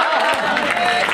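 Audience applause at a Hindi stand-up comedy show, a short burst of crowd clapping and cheering at close, steady loudness.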